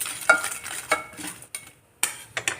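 Whole biryani masala spices are dry-roasted in a pan, stirred in a few separate scraping rustles with brief pauses, close and fairly loud, with no voices.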